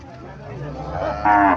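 A Sahiwal cow lowing at a Comilla cattle market for sacrificial animals, one drawn-out moo swelling loud near the end over a low background murmur.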